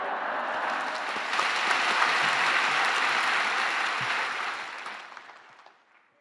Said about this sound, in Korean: 우리 오른손을 높이 들고 할렐루야로 또 박수로 크게 환영하겠습니다